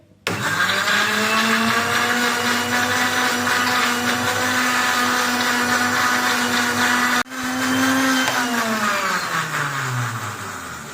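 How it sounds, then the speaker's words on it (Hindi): An electric blender whirs loudly and steadily through chocolate flavoured milk with sugar, cutting out briefly partway, then restarting and winding its motor pitch down near the end. "बस अब हमने इसको ब्लेंड कर देना है, बस इसको ब्लेंड कर लेंगे।"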